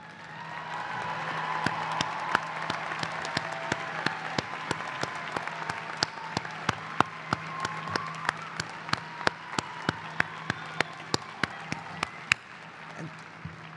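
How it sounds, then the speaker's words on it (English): Sustained applause from a commencement audience honoring graduating women as they stand at their seats, steady and fairly distant, with sharper individual claps popping out near the end before fading. "You deserve every applause you're getting."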